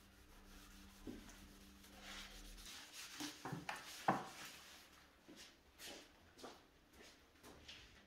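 Rag rubbing Danish oil onto poplar wood, soft close rubbing and wiping strokes in an irregular rhythm, faint and intermittent, with a few light knocks and no talking.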